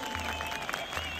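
A crowd in Cumhuriyet Square applauds the champion Samsunspor players at a title celebration, a dense continuous clatter of clapping with crowd murmur, sustained through the moment.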